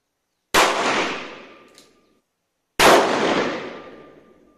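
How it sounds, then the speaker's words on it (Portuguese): Two loud gunshots, one from a .38 revolver and then one from a .357 Magnum, fired at a backpack on a shooting range. Each is a sharp, close crack followed by a long reverberating decay, with about two seconds between the shots. "primeiro disparo 38, primeiro tiro de 38, o segundo tiro será 357"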